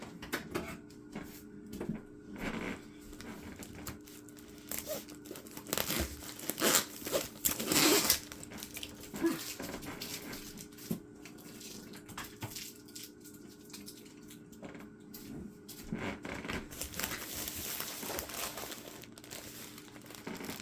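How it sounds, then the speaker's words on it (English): Crinkling and tearing of packing tape being cut off a box with scissors, sharp snips and rustles, loudest midway, close up and continuous over a faint background hum. "Let's see if I can get this tape off of here."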